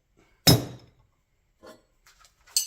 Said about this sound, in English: Find the bearing and hammer it down.